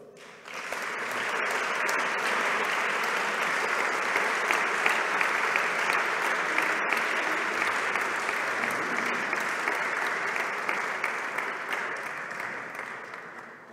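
Steady, warm audience applause welcoming Dr. Charlotte Knobloch at a prize ceremony, a full hall clapping evenly for over ten seconds without pause.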